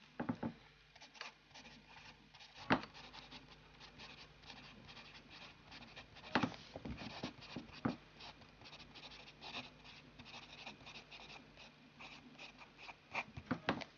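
A broad, wet fountain pen nib moves across paper in soft, scratchy strokes with small taps between them, quiet and close, with no voices.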